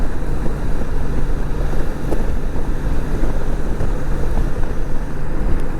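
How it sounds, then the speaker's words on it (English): A 1997 Honda Goldwing GL1500SE motorcycle pulls hard under throttle while riding on the road, its steady low engine drone mixed with loud, constant wind rush across the whole stretch. "You just hit the gas and the bike takes off."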